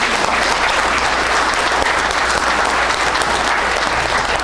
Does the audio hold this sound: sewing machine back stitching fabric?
no